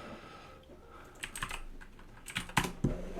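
Computer keyboard typing comes in quiet, irregular bursts of close key clicks, a few quick clusters over a soft background hush, picking up and getting louder toward the end.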